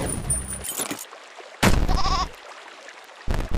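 A goat bleats in bursts in a glitchy video game, loud wavering calls breaking in and cutting off abruptly between stretches of quieter background sound.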